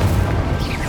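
Incendio fire spell cast during hard-mode Hogwarts Legacy combat, a dense booming crash that stays loud through a brief moment of heavy low rumble, with no talking.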